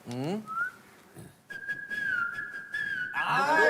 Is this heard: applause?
no